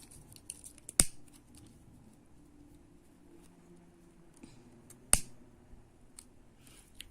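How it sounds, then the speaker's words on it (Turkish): Scissors snip through nylon thread in two crisp, sharp cuts a few seconds apart, close and clear over a quiet background with faint handling rustle. "Şimdi buradan keseceğim artık iplerimi."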